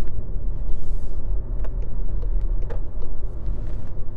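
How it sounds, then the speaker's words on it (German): A VW e-Golf electric car rolls along with a steady, loud rumble of tire noise and a wash of wind, no engine sound, with faint intermittent clicks on top. "Man hört tatsächlich nur die Rollgeräusche der Reifen und dann auch Windgeräusche, wenn man etwas schneller fährt."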